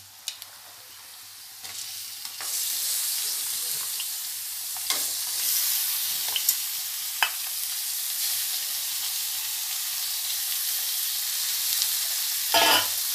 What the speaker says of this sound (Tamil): சிக்கனை போட்டாச்சு. இப்போ நல்லா கிளறி விட்டுக்கலாம்.